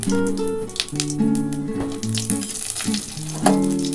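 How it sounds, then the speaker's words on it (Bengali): Bay leaf, a little whole cumin and two dried chillies crackle and sizzle in hot oil, a close, busy spitting sound under a tonal musical hum, with a brighter burst near the end. "এই তেলের মধ্যে আমি একটা তেজপাতা দিয়ে দিলাম, একটু গোটা জিরে ফোড়ন দেবো"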